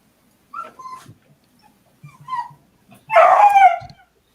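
A pet dog gives a few short yips and whimpers, close by and moderately loud, ending in a louder burst of excited whining and barking during a late-night gaming party.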